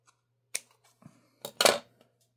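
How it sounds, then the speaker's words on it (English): Scissors trimming along the edge of a sheet of paper, a few crisp, quiet snips at irregular intervals, close by and with no talk. "Let me get my scissors here."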